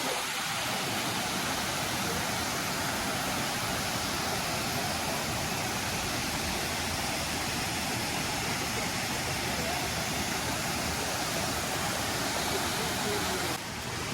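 A waterfall beside a bridge on a canyon nature trail, a loud, steady rushing roar of falling water that fills the whole stretch without a break.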